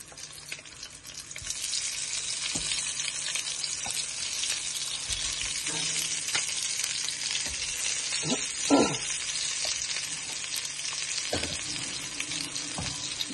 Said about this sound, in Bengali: ডিম আর আলু একলগে মিক্স করিয়া বুনা করবা